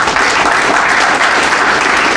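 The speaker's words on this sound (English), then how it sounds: "Give them a round of applause." Loud, dense audience applause fills the room at a hotel grand opening celebration, a steady roar of many hands clapping close by throughout.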